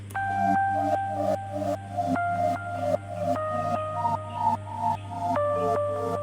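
Simple keys melody soaked in quarter-note delays at about 40%, repeating bouncy notes over a steady low drone, playing alone at moderate level with no talking.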